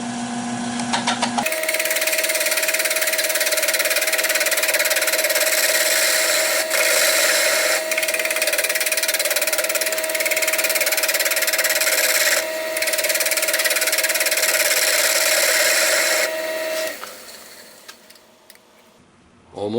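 Wood lathe turning an oak knob held loosely against a spur drive, taking shallow, easy cuts: a loud, steady whirring hum with a continuous scraping rasp, brief pauses in the cut, then the motor winding down at the end.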